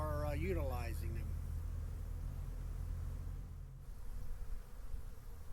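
Honey bees buzz at a hive in a steady, dense hum that continues throughout, with someone talking briefly at the start.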